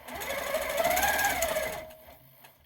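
A powerquilter 1650 quilting machine stitches along a ruler with a steady, close mechanical whir and rapid needle chatter for about two seconds before winding down into quiet.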